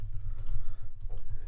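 Quick, soft keystrokes on a computer keyboard tap out a short run of typing, close by, over a low background hum with no voices.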